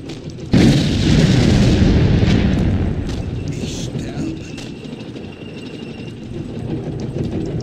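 Artillery fires in the war strategy game Sudden Strike 2, one heavy booming blast that hits suddenly and rolls into a long rumbling decay, followed by fainter distant battle noise.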